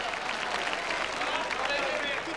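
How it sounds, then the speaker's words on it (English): A crowd at a 1975 Jeux Sans Frontières contest in Ieper applauds, a steady far-off wash of clapping with a commentator speaking over it. "And he'll get some applause."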